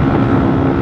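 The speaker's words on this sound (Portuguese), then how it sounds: "Ventão pra caraca" Strong wind roars against a motorcycle rider's microphone, a loud, constant rushing buffet with a low rumble underneath, unbroken and with no voices.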